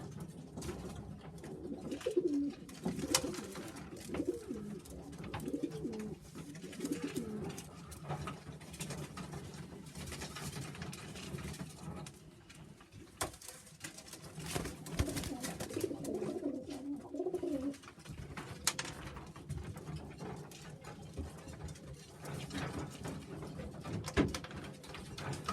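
Sheffield Tippler pigeons coo steadily throughout, with low, soft bubbling calls that rise and fall in overlapping bursts close by against a faint background rumble.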